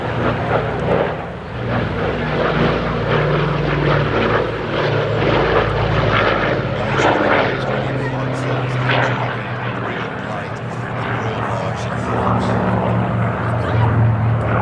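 A B-25J bomber flies past at an air festival at Ragley Hall, its propeller engines roaring loud and close, swelling and fading slightly over the pass, with a commentator talking over the drone.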